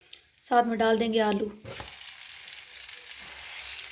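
Mashed potatoes with whole chillies, coriander powder and turmeric go into a pan. A short tonal sound comes first, then a moderate, steady sizzle continues close by.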